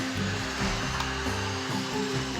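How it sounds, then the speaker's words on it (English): A 3D printer working at speed printing cosplay parts, its stepper motors whirring in rapid shifting tones, close and continuous. "this is how fast it's printing. Super fast"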